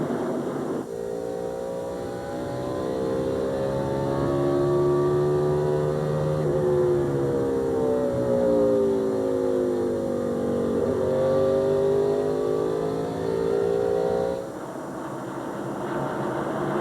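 NASCAR stock cars roar around the track at the 2000 Chevrolet Monte Carlo 400, a loud, continuous engine drone with rising and falling pitch as cars pass in close succession.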